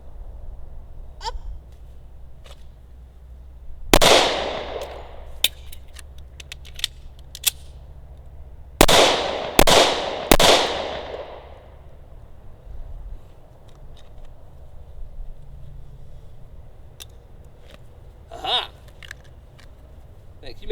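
Smith & Wesson Shield .45 ACP pistol shots outdoors, one sharp report followed later by a quick string of three loud cracks with ringing decay, plus a fainter shot near the end, amid quiet background.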